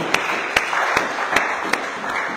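A church congregation claps during a worship service with a handful of sharp, evenly spaced claps. A faint murmur of voices sits behind them.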